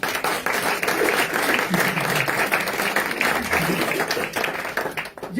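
A church congregation at a special consecration service applauds in steady, dense clapping for several seconds, loud and close, tapering off near the end.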